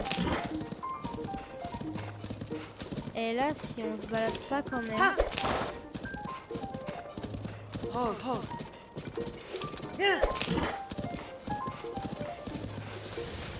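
Horses' hooves clop in Zelda: Tears of the Kingdom, rhythmic hoofbeats running through the scene beneath game music and someone talking over it.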